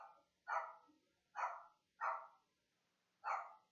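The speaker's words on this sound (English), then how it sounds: "Sorry for the dog barking, he's excited." An excited dog barks four times indoors, short sharp woofs spaced irregularly with quiet gaps between, moderately near and otherwise silent.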